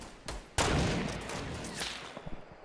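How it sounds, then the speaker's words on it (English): Gunfire in the battle royale game Fortnite, a sharp loud burst followed by a dense run of rapid shots and echoing reports, with a few lighter pops trailing off at the end. "Shots."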